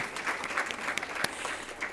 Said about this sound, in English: I would ask again if you could please join me in giving a round of applause to our presenters,